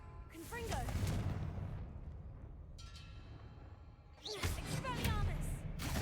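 A Confringo fire-blast spell goes off in Hogwarts Legacy, a loud booming blast with crackling burst at the start and another heavy explosive hit near the end, over a rumbling game backdrop.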